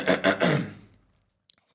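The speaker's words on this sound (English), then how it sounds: "Coughing" A quick burst of three harsh, throaty coughs close by, trailing off into near silence with a couple of tiny clicks.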